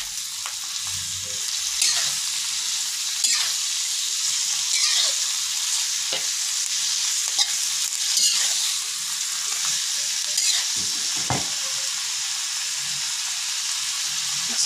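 Water spinach (kangkung) stir-fried in a pan with no water added gives a steady, loud sizzle. A spatula scrapes and tosses the greens at a fairly regular pace throughout, with no voices.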